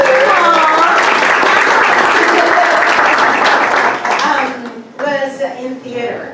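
A fan-panel audience at a Western film fair breaks into loud, dense applause for a guest's mother, a sustained roar of clapping that fades after a few seconds as a voice returns.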